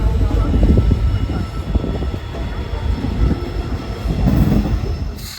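The Falaknuma Express passenger train runs near Kharagpur station with a loud, continuous rumble and rattle of wagons, and a faint high squeal near the end.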